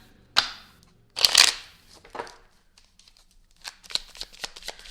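Several bursts of oracle cards being riffled and shuffled, sharp fluttering rattles separated by short pauses, close and clear with no talking.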